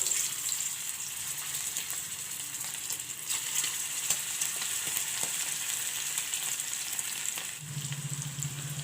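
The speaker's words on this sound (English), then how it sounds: "Now one by one I will leave the potatoes in the oil." Potato pieces with garlic fry in hot oil in a pan, giving a constant loud crackling sizzle throughout, with a low hum coming in near the end.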